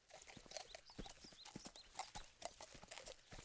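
Hooves of a donkey being ridden clip-clop steadily along a path, a quick uneven patter of close hoofbeats with no talk.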